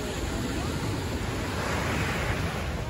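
Sea waves wash onto the beach at Marbella in a steady, soft surf hiss mixed with wind noise, with no voices over it.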